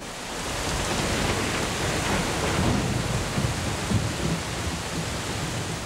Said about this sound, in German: Dann bricht das Unwetter herein.